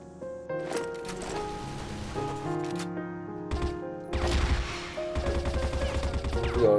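M4A1-DMZ Ultimate Gold rifle fire in the shooter CrossFire, bursts of rapid gunshots mixed with game music and effects, growing louder toward the end with sparse talk.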